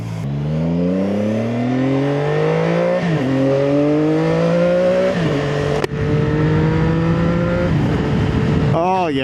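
A CFMOTO 675SS motorcycle on its first ride after break-in, engine loud and close as it revs up through the gears with clear shift drops, wind rush steady underneath.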